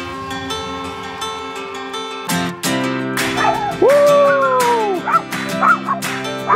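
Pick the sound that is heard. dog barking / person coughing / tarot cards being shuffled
dog barking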